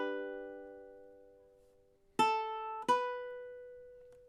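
A ukulele plays measure 6 of The Star Spangled Banner: one sustained note rings and fades, then two sharp plucked notes follow close together, each decaying slowly, played alone and up close.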